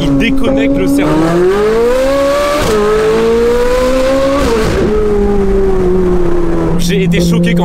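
A loud Ferrari 458 drives under hard acceleration, its engine wailing upward through gear changes with brief dips between shifts, close and loud, with a short burst of talk near the start and end.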